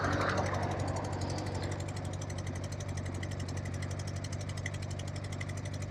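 A motorcycle engine runs rough after its spark plug fell out, giving a steady, loud, rattling, knocking idle with a harsh dirt-bike-like buzz that stays continuous and close throughout.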